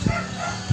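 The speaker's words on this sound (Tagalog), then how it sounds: "Loko itong mga aso ito ha." Two brief dog barks, one at the start and one near the end, heard from a moderate distance over steady background noise outdoors.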